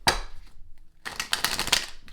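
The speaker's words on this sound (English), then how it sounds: "These cards, I don't like how they shuffling." Stiff tarot cards being shuffled: a crisp riffle burst, a brief pause, then a longer run of rapid flapping clicks, close and fairly loud with no talking.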